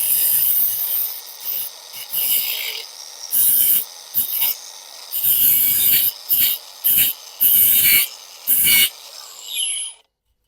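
A Mellif cordless angle grinder running on DeWalt 20 volt max batteries cuts through barbed wire wrapped around a post, giving loud, gritty bursts of cutting broken by short pauses before the motor spins down at the end.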